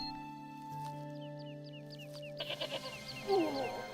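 A goat in the Broken Sword adventure game gives a short, shaky run of bleats, loud and close, over a quiet game soundscape with a soft musical tone.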